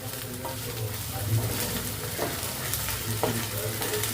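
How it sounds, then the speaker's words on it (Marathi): Chopped onion frying in oil for a spicy prawn masala gives a steady, close crackling sizzle, with a few spatula scrapes and stirs against the pan and no talking. "हे बघा असा मस्त कांदा शिजला पाहिजे चर चर चर चर आवाज आला पाहिजे"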